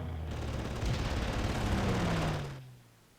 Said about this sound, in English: let's strafe this position